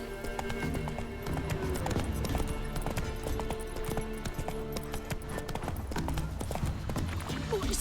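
Roach, a horse in The Witcher 3: Wild Hunt, clip-clops with steady rhythmic hoofbeats along with light ambient game sounds, the hooves continuous and moderately close throughout.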